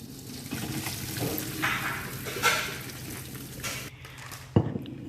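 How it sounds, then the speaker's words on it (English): Cooked spaghetti being drained into a sink, a steady watery splashing and hiss running throughout, with a sharp clatter near the end as the pot or colander knocks. "this time it's time to drain the pasta"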